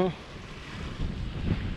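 Steady wind rushes across a sailboat off Ibiza, with a low buffeting roar and water noise under a brief voice at the start.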